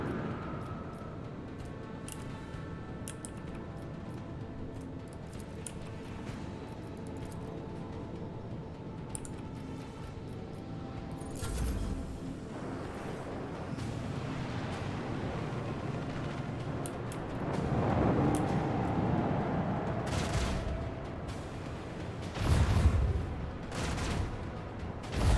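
A starship fires a torpedo salvo in the Rogue Trader video game, with soft rumbling launches building into several heavier booming bursts over a low, continuous background hum.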